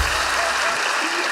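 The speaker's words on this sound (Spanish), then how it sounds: "Un fuerte aplauso para ustedes" A studio audience at a live comedy show breaks into applause, a brief dense wash of clapping that stays steady and fairly loud throughout.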